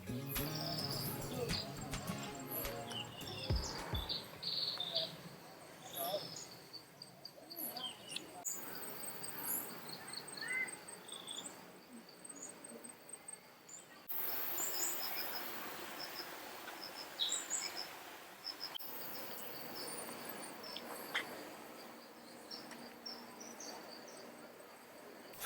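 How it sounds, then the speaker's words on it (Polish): Insects and birds call steadily in Vietnamese jungle around the My Son temple ruins: a faint, continuous high cricket-like chirring with scattered distant bird chirps, at a constant low level throughout. "ten śpiew ptaków i tego tutaj całej zwierzyny, która nas otacza, jest niesamowita"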